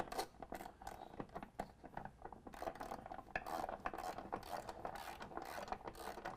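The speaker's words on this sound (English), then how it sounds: "I'm going to take a 13mm and tighten up our top bolt." A 13 mm ratchet wrench tightens the top bolt of a running board on a 2015 Chevy Silverado: rapid, continuous, close pawl clicking that sounds quiet and steady.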